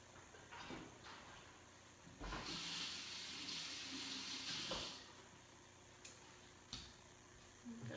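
Tap water runs into a kitchen sink while a shallot is rinsed, a steady broadband rush that swells loud for a few seconds, then drops to a faint trickle with small clicks and knocks.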